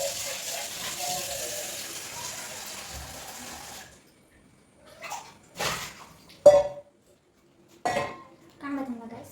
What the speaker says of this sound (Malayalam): ഇതാണ് നമ്മൾ എടുക്കുന്ന പാത്രം. നമുക്കൊന്ന് കഴുകിയെടുക്കാം.